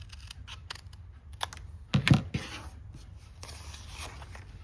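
A paper trimmer cuts a strip off vintage wallpaper being made into cards, giving soft clicks and a brief scraping slice up close in a quiet room with no talking.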